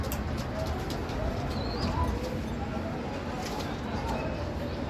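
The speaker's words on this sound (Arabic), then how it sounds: "بصوا الحمام هناك اهو بتاعي" Domestic pigeons cooing in a loft, soft and fairly faint, buried in a steady wash of broadband background noise for the whole stretch.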